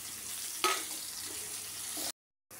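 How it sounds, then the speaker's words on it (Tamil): Curry leaves and spices hit hot oil for tempering, a sudden close crackle that settles into a steady sizzle and hiss, then cuts out briefly before resuming. "அதுக்குள்ளே இதை தாளிச்சு விட்டுடலாம்."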